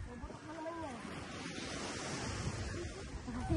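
Waves at the seashore, a continuous near wash of surf mixed with wind buffeting the microphone, while faint voices murmur underneath.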